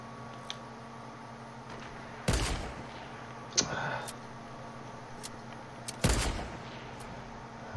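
Sniper rifle gunshots in the Fortnite video game: two loud, sharp broadband cracks roughly four seconds apart with a fainter shot between, over a steady game background hum.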